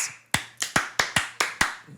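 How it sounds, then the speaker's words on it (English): Seven sharp, crisp hand claps ring out close by in a steady rhythm, about a quarter second apart, with no talking. "Clapping."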